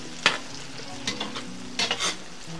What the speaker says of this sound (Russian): Кладем перец болгарский. Обжариваем.